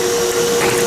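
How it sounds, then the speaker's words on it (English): A vacuum cleaner running in a shop, a loud steady whine with a constant tone and no break throughout. "Let's turn off the vacuum cleaner"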